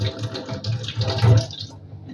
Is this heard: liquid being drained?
yes